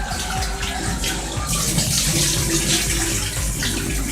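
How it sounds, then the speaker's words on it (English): Yam, Irish potato and turnip being washed under a running tap: steady, loud gushing water splashing into a sink or basin, continuous throughout with no talk. "the yam and the Irish and the turnip. I'm just washing them off."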